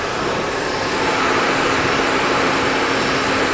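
A hair dryer blows hair dry on a balding or thinning head, giving a loud, steady, close-up rush of airflow with no pauses.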